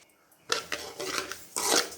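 Wheat rava being roasted and stirred in a pan: a few close scrapes and clinks of a spoon against the pan, in short bursts separated by brief pauses.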